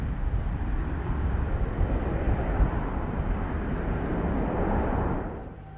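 An airliner on the Amsterdam to Edmonton flight passes over Schiphol, a steady broadband engine rumble at moderate distance that holds evenly and then fades away over the last second.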